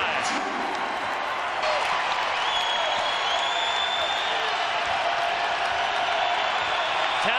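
A basketball arena crowd in Boulder at a USC vs Colorado game gives off a dense, continuous roar of cheering and applause that stays loud and steady throughout.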